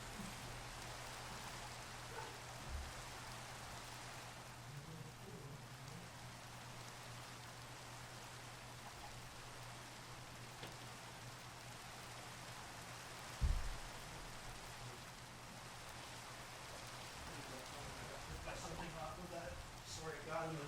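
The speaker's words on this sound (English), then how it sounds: "I'm still up there and it's raining." Steady rain from a storm in the Minecraft video game hisses continuously across the whole stretch, with a few brief thuds and clicks over it.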